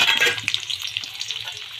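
Garlic sizzles and crackles in hot oil in a pan, a steady close-up frying hiss with small pops and no talking.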